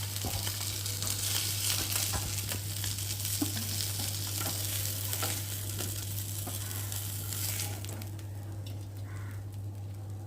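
Pieces of fish fry steadily in hot oil for an amodi fish recipe, a continuous close sizzle with light crackles throughout, a steady electrical hum underneath and the frying easing slightly near the end.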